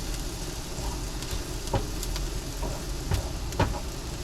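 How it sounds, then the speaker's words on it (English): Onions caramelizing in a pan, a steady dense sizzle with occasional sharp crackles and pops, close and continuous throughout. "when you're caramelizing onions"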